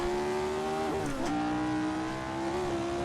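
A vintage 1960s racing car engine in a racing video game holds a steady, loud, buzzing drone. The pitch dips briefly twice as the car brakes and shifts, then climbs back to an even tone.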